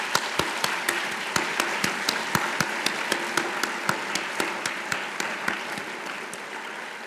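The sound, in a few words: audience applause for scholarship students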